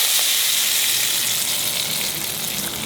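A hot seasoning tempering tipped into a pot of mutton kofta curry, giving a loud, dense, continuous sizzle that holds steady and fades slightly toward the end.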